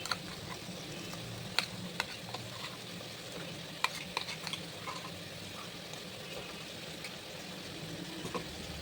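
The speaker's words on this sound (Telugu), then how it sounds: "ఇందులో మనం గ్రైండ్ చేసుకున్న ఈ పేస్ట్ వేసుకుందాం. కొత్తిమీర, పుదీనా పేస్ట్ మొత్తం వేసేసుకుందాం." Chicken frying in a pan with a ground coriander and mint paste, a faint continuous sizzle with occasional sharp clicks of a spoon stirring, heard close and without talk.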